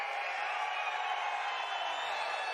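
A live-stream crowd roaring together in a steady, continuous wash of cheering noise, fairly quiet and even throughout with no distinct voices standing out.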